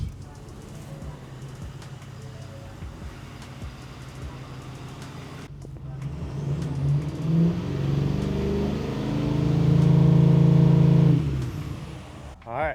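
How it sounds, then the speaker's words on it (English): A 2024 Ford King Ranch pickup with a stage 1 intake cold-starts nearby, its engine catching and swelling into a loud, steady high idle before settling, over a faint background. "Intake's in, let's do a cold start."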